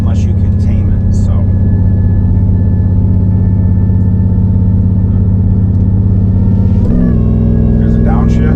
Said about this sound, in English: there's a downshift. There's another downshift.